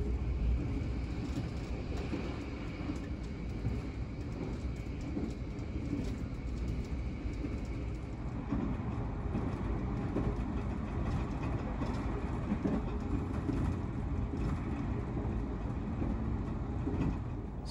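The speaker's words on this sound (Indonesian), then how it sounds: "Sekarang ini kereta api Harina melintas di petak Karangjati Gubug ya teman-teman." Harina train running on the Karangjati–Gubug section, heard as a steady low rumble of rolling wheels and carriage noise throughout, even and moderately quiet with no talking.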